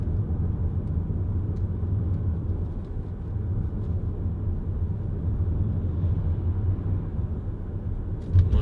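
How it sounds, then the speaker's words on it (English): A Lexus passes on the opposite side of the road, heard from inside a moving Audi A6 Allroad 3.0 TDI as a steady low road rumble with a faint swell of the passing car, no talking. "Lexus just going by on the other side"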